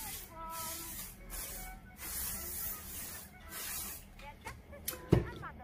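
A soft, softer-hold set and spray hairspray misted onto styled vintage hair in several short hissing bursts, with someone talking over and between them.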